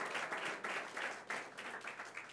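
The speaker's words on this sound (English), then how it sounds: "Speaker Carl Hasty, let's give him a round of applause" Applause from a crowd at a government event in Puerto Rico, moderate and steady with slight swells, heard for a couple of seconds at a distance.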